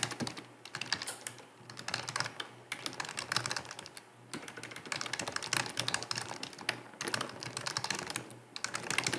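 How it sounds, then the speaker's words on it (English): Student names being typed on a computer keyboard, rapid close key clatter in bursts with short pauses between words, no voices. "just type in those students' names"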